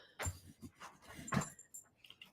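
Dogs at home make a short burst of close, soft whimpers, snuffles and light yips, with a couple of louder vocal bursts in quick succession.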